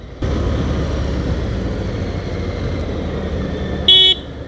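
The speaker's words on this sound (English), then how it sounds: "that horn still sucks" A Harley-Davidson Fat Bob 114 motorcycle rumbles along a road, then its thin, buzzy horn gives one short toot near the end over the engine.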